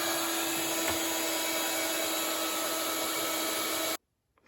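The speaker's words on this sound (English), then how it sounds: "I decided to take my heat gun and dry it that way" A heat gun blows steadily to dry ink on a stamped craft tag, a continuous whirring hiss with a fixed tone that holds unchanged for about four seconds, then cuts off abruptly into near silence.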